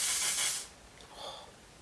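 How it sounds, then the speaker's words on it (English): An On Till Dawn setting spray aerosol can releases one strong hissing burst that fades after about half a second, followed by a softer, shorter spritz, close to the microphone. "So the last step is to use the On Till Dawn setting spray."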